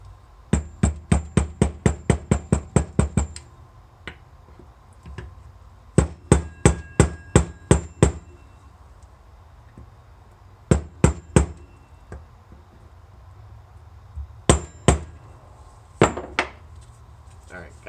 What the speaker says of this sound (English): So I'm just going to get that out with a little chisel.